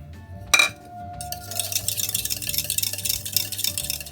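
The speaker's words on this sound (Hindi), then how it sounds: "इसको हम दही को फेंट लेते हैं।" Yogurt being whisked in a bowl for bathua raita, with a sharp clink near the start followed by steady, rapid scraping and light clattering of a utensil against the bowl, close and fairly loud, with no talking.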